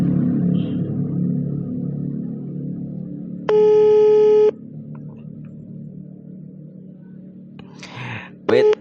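A phone call being placed, with a steady electronic ringback tone held for about a second, then quiet, and a second short tone near the end, over a low background hum and faint voices.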